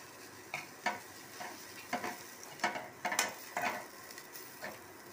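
Vegetables frying and being stirred in hot oil in a home kitchen, with a steady sizzle and scattered scraping taps of a spatula against the pan, close and moderately quiet.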